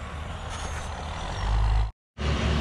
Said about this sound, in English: our concrete truck is rolling in